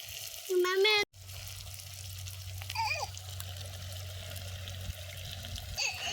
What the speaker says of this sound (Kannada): ಇದಕ್ಕೆ ನೀರು ಹಾಕೊತೀನಿ ಗ್ರೇವಿ ಮಾಡೋಕ್ಕೆ